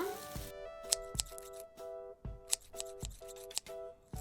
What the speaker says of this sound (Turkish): Makasımı alıyorum.